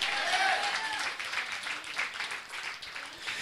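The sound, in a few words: church congregation clapping and shouting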